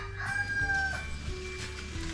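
A rooster on a rural Filipino farm where bitter gourd is harvested gives a single crow, moderately faint and somewhat distant, against a steady low background hum.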